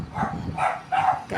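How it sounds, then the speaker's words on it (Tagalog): A dog at the neighbouring house beside a roadside stall gives a few short barks in quick succession, moderately close and clear over light background noise. "Kaya may naman aso dito sa kabilang bahay."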